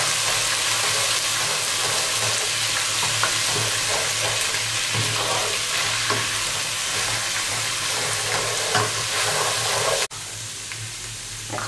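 Garlic and ginger paste frying in hot oil in a kadai, a loud continuous sizzle that runs steadily and then drops abruptly near the end.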